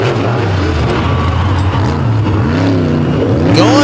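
A black and silver Ford monster truck on Michelin tires roars on wet pavement, its engine loud and close with wavering revs and a rising throttle burst at the end.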